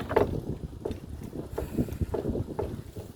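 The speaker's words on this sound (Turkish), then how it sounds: "Rüzgar var böyle." Wind buffets the microphone in low, uneven gusts, with faint intermittent rustles and thumps nearby.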